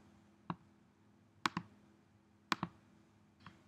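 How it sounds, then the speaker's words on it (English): A computer mouse clicks while a lesson file is saved: a few sharp, quiet clicks, single and in quick pairs, spaced about a second apart over a faint hum. "I'm just gonna save this as Module 3, Lesson 11, and click Save"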